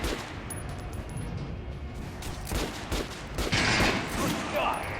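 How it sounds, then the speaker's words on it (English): Weapons fire in the video game Metro Last Light: several shots and booming reports land over a noisy, reverberant background, growing louder toward the end. "Try out the rest of the weapons you chose. Load. Fire."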